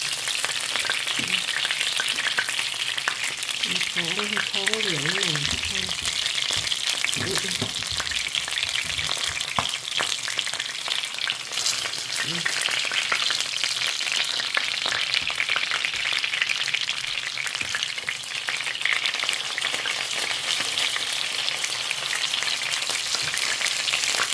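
Fish deep-frying in hot oil, a steady dense sizzle and crackle throughout, with a brief soft voice murmuring early on.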